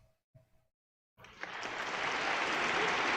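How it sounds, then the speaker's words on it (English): An audience breaks into applause after a short pause, the clapping swelling quickly and holding steady and full to the end. "Let's give Amber a great big round of applause."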